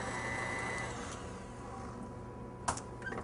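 An electric stand mixer whirs through sticky toffee pudding cake batter, a steady motor drone that winds down after about a second, followed by a brief clatter near the end.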